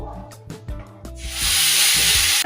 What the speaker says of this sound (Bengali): এখানে আমি একটু ফোড়ন দিয়ে দিই শুকনো লঙ্কা তেজপাতা গোটা গরম মশলা